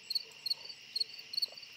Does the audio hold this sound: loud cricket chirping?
yes